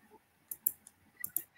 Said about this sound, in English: I'm clicking the button and just nothing's happening.